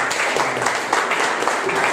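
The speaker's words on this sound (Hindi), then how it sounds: "क्यों ना उनके लिए हम ताली बजाएं और इस समय हम उनका स्वागत करें" Congregation at a Sunday evening church service clapping to welcome a visiting pastor and his team, a dense, steady round of applause filling the room.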